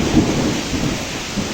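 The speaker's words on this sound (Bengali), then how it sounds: "হঠাৎ করে প্রচুর বৃষ্টি হচ্ছে" Heavy rain with a thunderstorm and strong wind during a storm at a mango orchard, a steady dense roar of rain and wind with low rumbling swells, loud and continuous with no voices.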